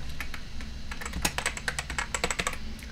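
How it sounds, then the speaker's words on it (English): Quick typing on a computer keyboard, close and crisp, with irregular bursts of key clicks over a low steady hum and no speech. "I'm gonna type a text, whatever you wanna write"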